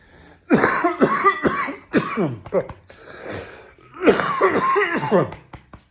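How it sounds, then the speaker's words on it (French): A person coughs several times in quick bursts, close to the microphone, with a throat-clearing sound mixed in. "Je tousse"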